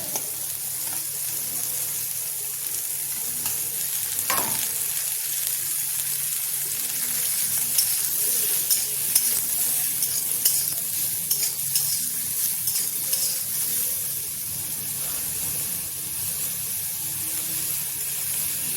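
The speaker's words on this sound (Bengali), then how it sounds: "এই ছাতুটা হালকা ভেজে নেব।" Mushrooms frying lightly in oil for a mushroom and potato curry, a steady close sizzle with bursts of crackle and occasional stirring scrapes, continuous throughout with no talk.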